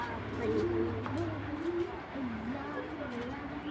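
A big white tracer female racing pigeon coos in a soft, wavering, repeated warble, close by and fairly quiet.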